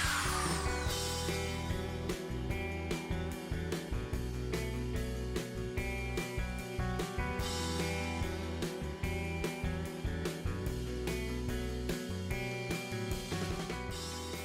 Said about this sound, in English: I just need to take a sander to that to remove the dust and grime